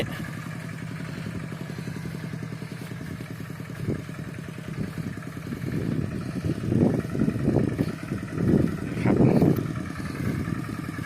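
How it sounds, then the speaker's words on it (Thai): A homemade iron-buffalo walking tractor with a small engine plows a field, its steady mechanical chug running throughout and growing louder and rougher toward the end as the load or throttle rises. "อันนี้ใช้วิธีการไถกบเองนะครับ เราไม่จ้างรถไถใหญ่มาปั่นนะครับ"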